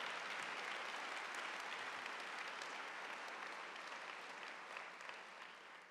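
Audience at a fall convocation breaking into sustained applause, dense and even clapping that fades slightly toward the end.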